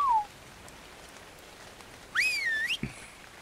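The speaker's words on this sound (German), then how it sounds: "Vielleicht muss ich sie erst neutral pfeifen." A short whistle command from the video game Ark Survival Evolved: one clear, bright rising-and-falling whistled tone lasting under a second, with a faint brief whistle blip at the very start and a soft thud after it.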